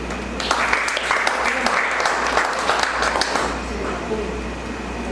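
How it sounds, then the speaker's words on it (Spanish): Applause from a church congregation fills the space, dense steady clapping from many hands sustained throughout at moderate loudness, with no talking over it. "Un aplauso para ustedes."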